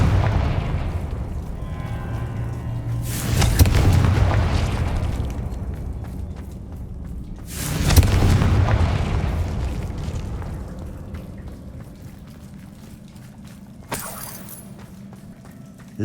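Confringo spell blasts go off in Hogwarts Legacy, three booming explosions spaced several seconds apart over a rumbling game background, the last one sharper and shorter.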